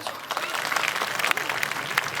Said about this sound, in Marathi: एकदा दोन्ही हात उलगून टाळ्या वाजवा